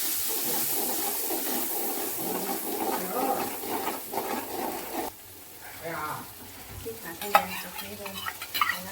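Chili gravy being stirred into potatoes frying in a pan, with a continuous sizzle and repeated scraping strokes of a spoon; the frying hiss quietens partway through as the stirring carries on.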